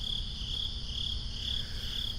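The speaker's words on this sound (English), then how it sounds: "The crickets are really close." Crickets chirp close by outdoors at night, a continuous shrill high trill that pulses steadily over a low background hum, with no voices.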